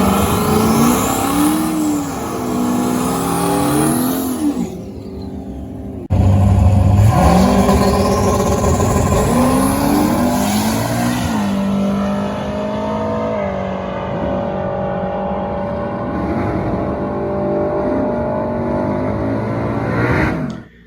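A turbocharged 6-liter LS engine in an F-body Trans Am WS6 with a 4L80 transmission revs loudly and close, climbing and falling repeatedly with a brief cut, then a long sustained drone with turbo whine.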